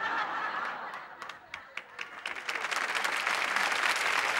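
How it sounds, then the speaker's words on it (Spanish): Studio audience applause on a Spanish television comedy show, starting thin with scattered claps and swelling into steady, dense clapping over a few seconds, with faint chuckles mixed in. "me han aplaudido"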